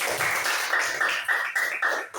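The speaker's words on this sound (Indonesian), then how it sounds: "Tepuk tangan untuk kelompok 1" Classroom of children clapping together for a group of classmates, a dense, steady patter of many small hands lasting a couple of seconds, close and fairly loud.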